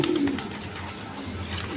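A red Gorra pigeon gives a short, low cooing call, close and fairly quiet, with no talk.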